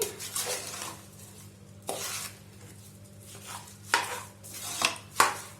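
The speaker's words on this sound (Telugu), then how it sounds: "ఇలా రైస్ వేసుకున్న తర్వాత ఒకసారి మొత్తం కలుపుకుందామండి" Soaked rice is stirred into a cooking pot for a plain white biryani, giving scattered scraping and clinking strokes against the pot, with a few sharper scrapes near the end over a low steady hum.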